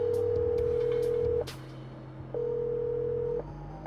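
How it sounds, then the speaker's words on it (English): Telephone call tones come through a phone line: a steady tone for about a second and a half, a short gap of faint line noise, then a second matching tone. The tones are fairly quiet and no one speaks. "We called Ed up on the phone"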